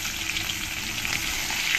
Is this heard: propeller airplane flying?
no